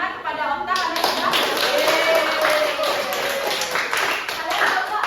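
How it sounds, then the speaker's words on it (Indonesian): Children in an elementary school classroom clapping together in a dense, steady patter that lasts several seconds, with voices talking and calling over the applause. "kita beri tepuk tangan"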